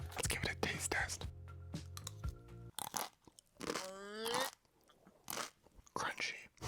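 Dry, uncooked freeze-dried fettuccine alfredo with chicken is bitten and crunched in several close, sharp bursts between pauses, with soft whispered talk and a brief low hum at the start.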